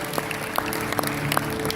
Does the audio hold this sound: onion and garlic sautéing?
no